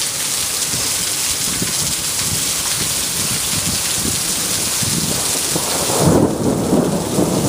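Heavy rain pours down steadily during a thunderstorm near a transformer, with low rolling thunder rumbling beneath it and a louder crack and rumble swelling near the end.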